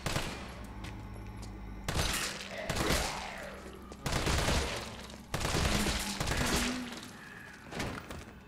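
Gunfire in the video game Resident Evil 3 Remake, several heavy bursts of shots arriving in clusters with reverberant booms and short quieter gaps between them.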